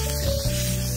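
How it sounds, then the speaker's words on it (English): Stencil spray adhesive hisses briefly from an aerosol can onto the back of a stencil, a short, close, steady spray over a low background hum. "Stencil spray adhesive was applied to the back of each stencil."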